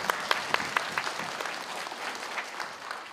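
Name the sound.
audience applause at public hearing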